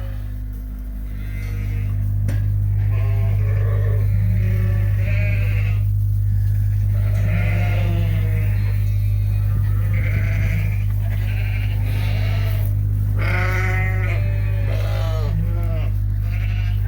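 Sheep bleating in a pen, one with a sore foot, repeated loud wavering bleats from several animals close by over a constant low mains hum.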